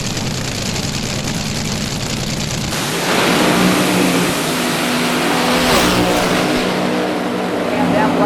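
Top Fuel–class AA/fuel dragsters launch down the drag strip at a hot rod reunion event, a loud sustained engine roar that surges in after a few seconds and stays intense, with an announcer talking over it.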